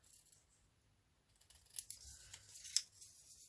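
Scissors snip through paper while a boot shape is cut out for a craft page, making quiet, close, crisp cuts that come in several uneven bursts, with one sharper snip near the end and no talking.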